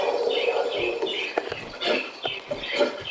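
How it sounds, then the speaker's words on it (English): A pet bird chirps and calls in short, repeated bursts close by indoors, mixed with light clattering. "I have to apologize for the noise that my bird is making."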